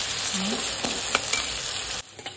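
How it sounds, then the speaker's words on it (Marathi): Onion fries with salt in a hot pan for a sprouted green moong dish, giving a continuous close sizzle with a few sharp stirring clicks. The frying drops off abruptly near the end. "त्याच्यामध्ये मीठ टाकून घेऊया आणि त्याला फ्राय करून घेऊया."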